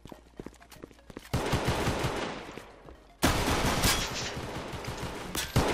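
Gunfire from the Roblox shooter Counter Blox: a few sparse shots, then loud rapid bursts of automatic fire after a short pause, close and dense.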